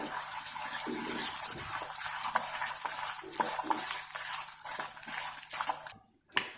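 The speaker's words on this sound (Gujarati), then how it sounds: "હવે બધું જ બરાબર મિક્સ કરી લઈએ" Farali handvo batter with peanuts, ginger-chili paste, salt and coriander is mixed in a bowl, making rhythmic wet scraping strokes close by. A spoon taps near the end.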